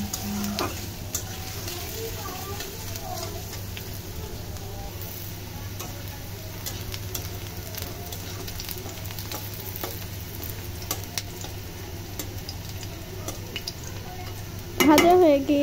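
Ingredients for aloo bharta, a Bengali mashed-potato dish, fry in a pan with a steady, even sizzle over a low hum for the whole stretch, then a louder clatter of the pan near the end.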